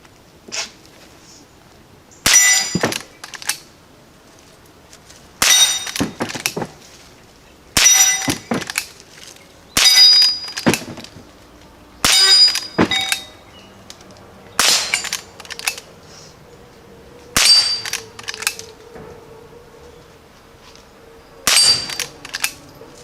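Gunshots from a Henry Frontier lever-action rifle fitted with a Skinner peep sight, fired outdoors: about nine sharp, loud cracks at a steady pace, each followed by brief mechanical clatter of the action being cycled.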